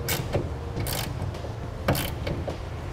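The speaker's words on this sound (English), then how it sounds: "I'm going to take a 9/16 socket and ratchet," A 9/16 socket and ratchet tightening a clamp on a RetraxPRO MX hard tonneau cover fitted to a 2016 Chevrolet Silverado, heard as a few short clicking bursts close by, with no talk.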